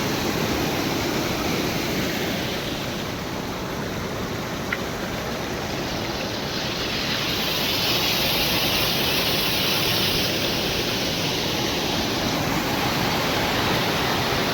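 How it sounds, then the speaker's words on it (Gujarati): Rainwater rushes and flows continuously in a loud, broad roar after heavy rain, with a slight swell in intensity partway through; no one speaks. "અત્યારે આટલું પાણી ચાલી જાય"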